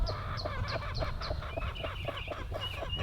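Layer hens in a backyard coop cluck and squawk in a quick repeating series of loud, honking calls, close by, with no talk over them.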